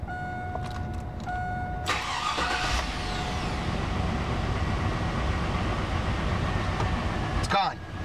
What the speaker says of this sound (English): Now I turn the truck over.